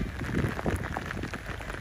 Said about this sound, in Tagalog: lumakas na din ang ulan